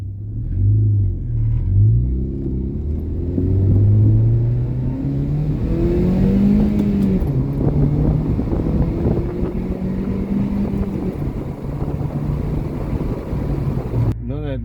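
An 8th-generation Honda Civic engine breathes through a dual-chamber muffler with a deep, steady rumble that rises and falls as it revs and pulls, with wind buffeting throughout.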